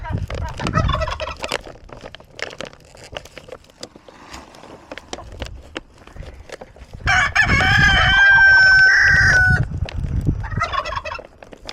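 Farmyard fowl near a dust bath gobble and cluck close by, a turkey's loud rattling gobble rising in the middle over scattered clucks and faint rustling, with a rooster-like crow mixed in.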